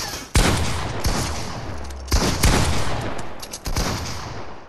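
Loud bursts of gunfire in Fortnite: several sharp cracks and short rapid volleys arrive close up, separated by brief lulls, with no talk over them.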